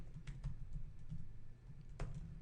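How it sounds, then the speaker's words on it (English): Faint, close keyboard typing as a command is entered for a VPN lab, a steady patter of soft keystrokes over a low background hum, no talking. "I didn't have to type all that out"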